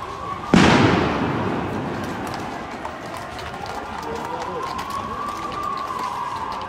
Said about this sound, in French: des gaz lacrymogènes sont en train d'être utilisés à l'encontre des manifestants